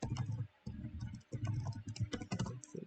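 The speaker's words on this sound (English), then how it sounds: "You want to type in the password." Rapid clattering keystrokes on a computer keyboard as a password is entered, close and fairly loud, coming in dense bursts separated by two brief pauses.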